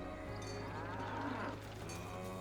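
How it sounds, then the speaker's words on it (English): A cow in the video game Dungeons of Hinterberg gives a single drawn-out moo over a sustained musical backdrop, moderately loud and alone without talk. "Okay, we can feed the cow."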